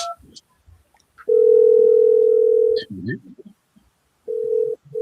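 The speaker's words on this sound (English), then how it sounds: "I think somebody calling you right now, Josh." A telephone-style ringing tone sounds during an online call, one long steady electronic tone followed by a shorter one, clear and close, with brief bits of talk between them.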